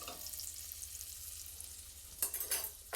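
Pancetta browning in a pan, a faint steady sizzle with a few sharper stirring scrapes and clacks toward the end, no voices.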